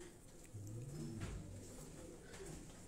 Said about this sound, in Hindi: कबूतर है ये।